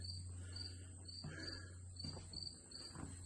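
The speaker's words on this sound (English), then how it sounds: "But the crickets out here getting it. It sounds nice." Crickets chirp in a regular pulsing rhythm outdoors on a warm, humid evening, high and steady, over a low constant hum with a few faint knocks.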